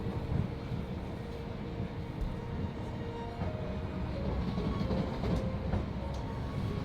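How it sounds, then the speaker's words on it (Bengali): A double-decker passenger train in Azerbaijan rolls steadily along its rails, a continuous low rumble with faint clickety-clack from the wheels, heard from on board with no talk. "ট্রেন চলতেছে তার নিজস্ব গতিতে।"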